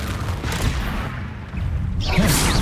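Confringo blasting spell cast in Hogwarts Legacy, a dense burst of booming, crackling blasts that roll on for a couple of seconds and swell louder near the end.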